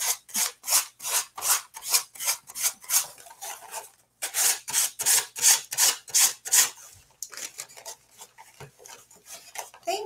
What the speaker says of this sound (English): the decoupage canvas part is not quite dry enough to sand down all the way.